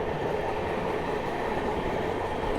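The Sealdah Ballia Express, an LHB train, runs just after leaving Burdwan junction: a steady rumble and rolling rail noise heard from inside, continuous and fairly loud with no talk.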